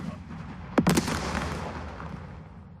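Area-fire artillery shots go off in the Second Front war game, a sharp close crack followed by a second quick report, then a decaying rumble and a scatter of distant pops.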